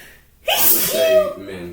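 A single sharp human sneeze bursts out loudly and close, with a quick intake of breath, after which a person starts talking.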